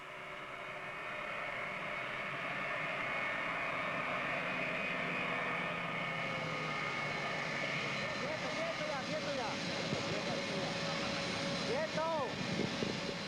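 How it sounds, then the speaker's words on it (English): A parked airplane's engines run on the tarmac in Spain as a Saudi crown prince's delegation boards for home, a steady, loud roar with a faint rising whine that lasts the whole clip. "Crown Prince Fahd mounts the steps of the plane, waiting to take him and his delegation home"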